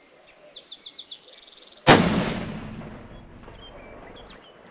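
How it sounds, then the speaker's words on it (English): A single loud hunting rifle shot fired with Federal ammunition loaded with Berger bullets, preceded by a quick series of electronic beeps and followed by a long, rolling echo that fades out. "this is the Federal with the Burger bullets, and I'm going to shoot that right middle target"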